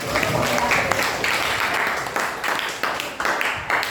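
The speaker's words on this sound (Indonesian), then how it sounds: "Tepuk tangan dulu dong buat Abdi." Classroom applause for a student who answered a question in a geography lesson, a dense burst of clapping from many hands that runs steadily for several seconds with a few louder claps standing out.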